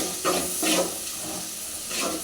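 Onions and green chillies sauté in a pan, giving a soft steady sizzle with a few brief swells of hissing as the pan is stirred, and no talking.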